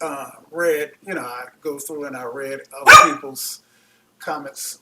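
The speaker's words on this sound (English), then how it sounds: "sorry about the dog, he's a vocal fella" A dog barks once, loud and close, a sharp burst between stretches of someone talking indoors.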